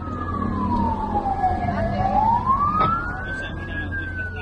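A rescue crew's emergency vehicle siren wails loud and steady, sweeping down and back up in pitch over a low engine rumble on a street after a traffic accident.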